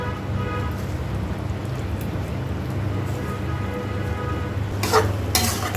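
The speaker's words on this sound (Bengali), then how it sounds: "এখন সে ভেজে রাখা মাংসগুলো সব দিয়ে দিব" Pre-fried beef tipped into a hot pan for a beef pickle sets off a steady, loud sizzle, with a couple of sharp clatters from the pan near the end.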